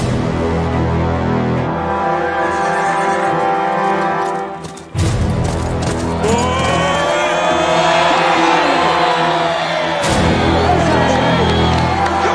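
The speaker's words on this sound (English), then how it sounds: "I want them cheering as soon as we move." Crowd cheering at a medieval jousting tournament, a loud sustained roar of many voices that briefly drops out near five seconds, then returns, with sharp impacts and talk mixed in.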